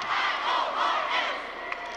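A near-capacity crowd in Frost Arena, with a wild student section at a girls' high school basketball state semifinal, keeps up a loud, sustained roar of yelling and cheering, with no clear speech on top.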